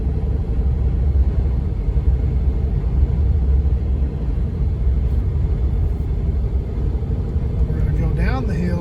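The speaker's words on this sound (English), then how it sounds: "Look at the 2006 Tundra go." Interior engine and road rumble from a 2006 Toyota Tundra pickup rolling downhill, a steady low drone throughout with a brief tonal whine near the end.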